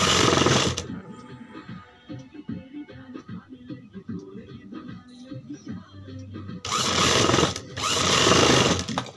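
A sewing machine stitches along the edge of a blouse while a back-neck design is made. Loud, dense whirring bursts open and close the stretch, with quieter rattling and handling sounds in between.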